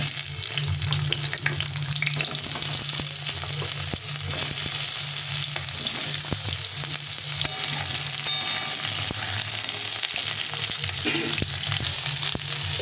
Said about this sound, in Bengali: এখন এই তেলে পটলগুলো ভেজে নেব।